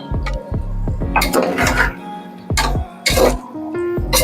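Paneer cubes tossed into a pan of sautéed tomato and vegetables for veg pulao, stirred with a metal spoon that clanks and scrapes against the pan in repeated close, sharp knocks.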